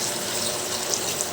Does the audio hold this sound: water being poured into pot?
yes